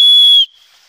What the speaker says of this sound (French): Je vais tenter un rappel avec le sifflet fabriqué à partir d'un morceau de bois